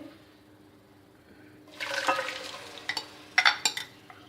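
Four blended tomatoes go into the pan for a Karachi-style chicken karahi: after a quiet start, a sudden loud sizzle bursts up and hisses on, with a few clinks of stirring near the end, without talk.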